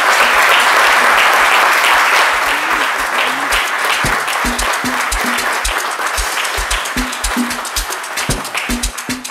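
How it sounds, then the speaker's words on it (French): Studio audience on a French midday TV show applauding loudly and steadily, a thick wash of clapping with sharp individual claps standing out, sustained throughout without speech. "Monsieur Paul Ledron, on l'applaudit et on l'accueille sur le plateau de CMidi."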